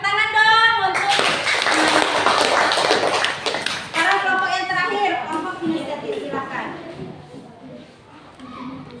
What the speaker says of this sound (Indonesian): Tepuk tangan dong untuk sekarang kelompok yang terakhir, kelompok inisiatif.